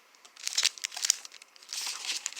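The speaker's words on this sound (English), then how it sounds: "Pop it in an envelope" Paper and packaging crinkle and rustle as a Color Street nail polish sample pack is slipped into an envelope, with a series of close crumpling bursts and one sharper crackle midway.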